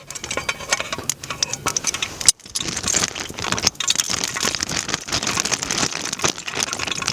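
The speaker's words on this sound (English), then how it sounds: "You can probably hear the oil getting hot now." Cooking oil heating in a pan for a stir fry at a wild camp, crackling and spitting in a dense, steady patter of tiny pops and hisses, close by, with no talking.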